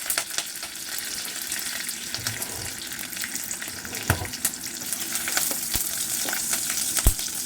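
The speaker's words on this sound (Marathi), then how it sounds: "दोन चमचे तेल तापलेलं आहे जिरे मोहरी घालू कढीपत्ता घालू" Chillies, cumin, mustard seeds and curry leaves fry in a pan of hot oil for rasam, giving a close, dense sizzle with frequent sharp pops and crackles of spluttering seeds, and no voices.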